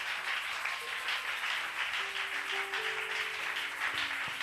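A church congregation applauds in steady, sustained clapping at moderate volume, with faint sustained tones, likely music, running underneath.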